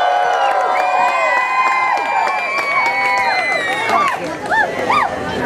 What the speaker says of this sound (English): Are we gonna judge it by cheering?